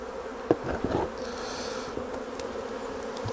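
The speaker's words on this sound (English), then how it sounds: "We can shake the bees off the crown board." A swarm of honeybees buzzing around the crown board of a hive, a steady close drone with a few bumps and knocks near the start.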